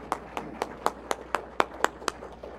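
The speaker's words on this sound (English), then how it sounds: "Give a round of applause." Sparse clapping at a church sermon gathering, about ten distinct, fairly evenly spaced claps at a moderate distance, more like one or two people clapping than a full round of applause.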